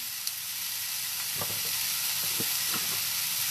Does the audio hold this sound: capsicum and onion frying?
yes